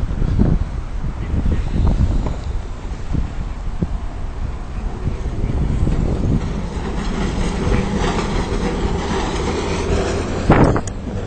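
A city tram rolls past with a steady low rumble and rail clatter, wind buffeting the microphone throughout and a brief sharp squeal near the end.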